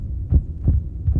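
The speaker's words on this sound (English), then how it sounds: "a fast heartbeat" A fast heartbeat thumps three times in quick, steady succession, each beat a deep, muffled low throb, close and alone.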